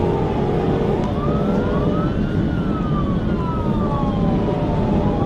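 A state trooper's police siren wails in long rising and falling sweeps over a steady rumble of engine and road noise during a high-speed chase, loud and continuous throughout.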